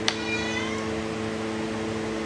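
A cat gives a single short meow near the start, followed by a steady background hum and hiss.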